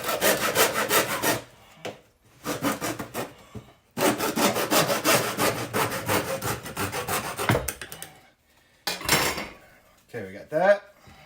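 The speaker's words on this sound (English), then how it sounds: "a good tool for that would just be a hacksaw. It should just cut right through this plastic tubing." A hacksaw cuts through plastic drain tubing under a sink during a garbage disposal replacement, with fast rhythmic rasping strokes in several bursts separated by short pauses, close and fairly loud.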